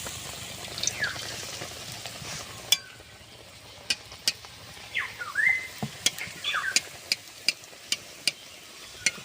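Batter-coated eggplant slices (beguni) fry in hot oil, a low sizzle with scattered sharp crackles and pops, while birds chirp faintly in the background.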